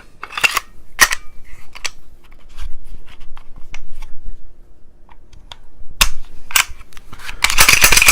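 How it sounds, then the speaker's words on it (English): Semi-automatic pistol being reassembled after cleaning: sharp metallic clicks and clacks of parts sliding and locking together, loud and close, spaced irregularly with a few bursts of louder rattling near the end. "Assemble the pistol."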